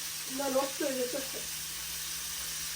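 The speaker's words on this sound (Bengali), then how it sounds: "কলিফ্লাওয়ার রান্না করতেছি আলু দিয়ে" Cauliflower and potatoes fry in a pan with a steady, soft sizzle, while a voice speaks briefly over it near the start.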